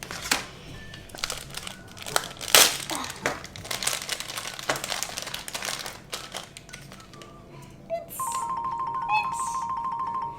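A Thomas Minis blind bag being torn open, its plastic packaging crinkling and rustling in close, irregular bursts for several seconds, followed by a brief electronic toy-like tone near the end.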